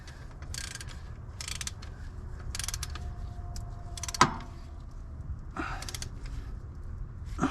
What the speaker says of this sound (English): Putting the drain plug back in.